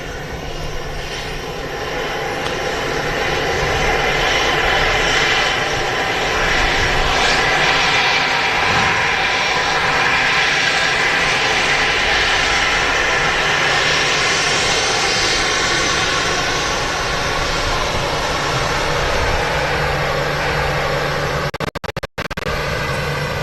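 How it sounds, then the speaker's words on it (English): An EasyJet Airbus A320 arrives at Manchester Airport with a loud, sustained jet engine roar and whine that holds steady throughout and fades slightly near the end, with no talking over it. "There's an EasyJet A320 just arriving here at Manchester"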